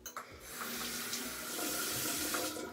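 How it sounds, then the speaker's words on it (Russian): Tap water runs into a sink while someone rinses micellar water off their face, a steady close splashing stream that starts after a brief quiet moment. "Сейчас я смываю мицеллярную водичку с лица."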